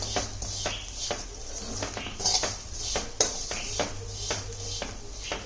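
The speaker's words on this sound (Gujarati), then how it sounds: "આ રીતે ધીમા ગેસ પર આપણે એને સતત હલાવતું રહેવાનું છે, જેથી કરીને પૌવા છે એકદમ સરસ શેકાઈ જશે" A spoon stirs and scrapes poha flakes roasting in a pan over a low flame, with steady repeated clinks and scrapes against the metal and a faint background hum.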